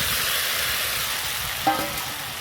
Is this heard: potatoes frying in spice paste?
yes